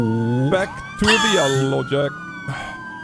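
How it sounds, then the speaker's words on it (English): A police car siren wails in a retro 1980s patrol game, with rising and falling tones sweeping close and loud. Brief bursts of talk break in over the siren. "let me get my sirens going"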